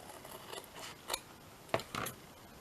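Scissors snipping a piece of card, a few quiet, crisp cuts with short gaps between them, close but faint, with no talking.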